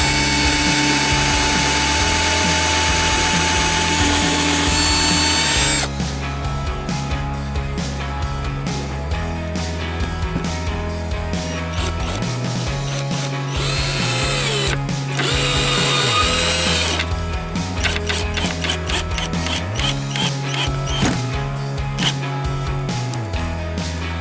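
Power tools at work fastening custom interior trim pieces for a Dodge Ram truck build, a dense run of whirring and ratcheting bursts with stop-start rhythm, close and loud, with no talking.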